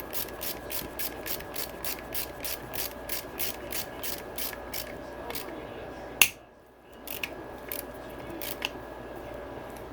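Parts of a KTM 150SX two-stroke engine top end being tightened during a piston and cylinder job, heard as a steady run of rapid ratcheting clicks, close and fairly even, broken by one sharp clack and a brief pause before the clicking resumes.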